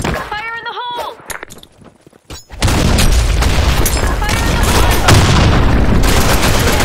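Video game combat: a grenade explosion booms and then heavy gunfire rolls on, loud and close, with a brief voice at the start.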